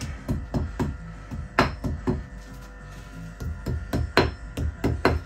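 Hammer tapping wall plugs into pre-drilled holes for pond pipework, a series of sharp, close knocks in an irregular rhythm, some blows harder than others, with no talk.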